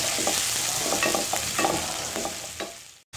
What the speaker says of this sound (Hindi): हाफ कप तेल गरम करके डाल दी है इसमें प्याज